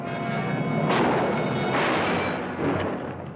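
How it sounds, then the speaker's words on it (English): Loud gunshots in a western film, a couple of heavy booming blasts with rolling echoes that fill the moment with no speech. "They've shot Joshua"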